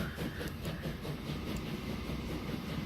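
Trains running on a rail line in the Transport Fever simulation game, a steady rumbling roll with faint rhythmic clatter, moderately quiet and continuous with no talk.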